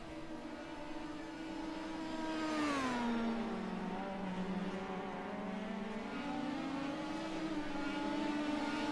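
Race cars in a racing video game thumping over a curb at the Long Beach circuit, a whining engine note dipping and rising steadily, with no talk.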